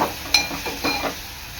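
Onion and tomato stir-cooking in a pan for a Maharashtrian gavar (cluster bean) dry bhaji, with a few soft spoon scrapes and a faint sizzle over a short span.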